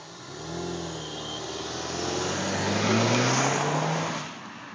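A 2010 Audi accelerates hard along a street at autocross pace, the engine note climbing through gears and swelling louder as the car nears, then fading, with no talk.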